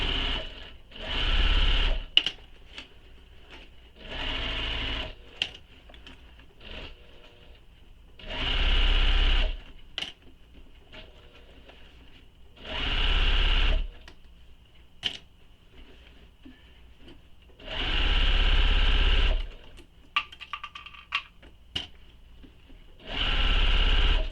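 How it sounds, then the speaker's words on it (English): Sewing machine stitching the bottom seam of a fabric bag, running in five steady bursts of a few seconds each with quiet pauses between, close and loud. "now we're going to sew this with the seam allowance given in the pattern along the bottom"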